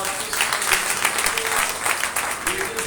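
Church congregation applauding during a Sunday sermon, a steady wash of clapping from many hands that holds for the whole stretch, with some talk mixed in underneath.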